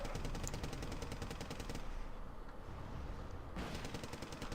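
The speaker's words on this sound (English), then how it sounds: "the Centurion Aviary is shooting at the Saxon with its machine gun" Machine gun fire from a Centurion AVRE in Wargame: Red Dragon, rapid regular bursts of shots that pause for about two seconds, then resume, moderately faint against battlefield noise.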